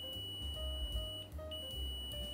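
A multimeter in continuity-test mode gives a steady high beep, broken into short repeated bursts as the probe leads touch and separate, close and loud over a low background hum.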